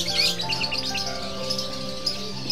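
Colourful caged birds chirp and tweet at an animal market in Yogyakarta, a dense overlapping chorus of bright, quick calls close by with market bustle faintly underneath.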